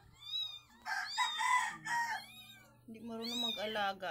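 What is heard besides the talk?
cat meowing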